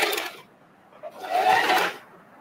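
A sewing machine stitches back and forth to lock a seam along a marked sewing line on fabric, two short bursts of whirring run separated by a brief pause, close and clear.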